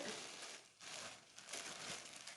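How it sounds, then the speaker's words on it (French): A plastic garbage bag crinkles and rustles as it is draped over a freshly carved pottery piece to dry. The rustling is soft, close and continuous in a few short surges, with no voices. "donc un sac poubelle. Je vais le recouvrir et le laisser sécher"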